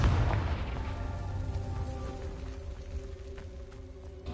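Confringo blasting spell explosion in the video game Hogwarts Legacy: a loud booming burst at the start that rolls off into a rumbling, ringing decay with game music under it.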